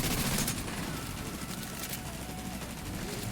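Deployed turret in The Division 2 firing at enemies: a continuous, fairly faint rattle of rapid shots with dense crackling, heard steadily throughout with a louder burst at the start.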